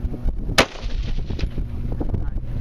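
A single loud, sharp gunshot cracks out at a 3-gun shooting match, followed by echo and windy outdoor background noise.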